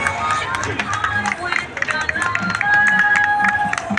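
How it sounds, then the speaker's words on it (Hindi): A Republic Day parade crowd in Sector 5, Panchkula, claps for the education department tableau, scattered applause and crowd noise under an announcer speaking over loudspeakers, with a few tonal whistles or horn notes. "जोरदार तालियों से अभिनंदन करें, स्वागत करें शिक्षा विभाग की ये झांकी"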